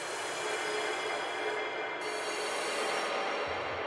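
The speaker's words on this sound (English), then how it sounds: "we have this little industrial ambient pad sound" A dense, steady industrial drone with hissing, metallic texture fills the clip, sustained and loud throughout with a low rumble entering near the end.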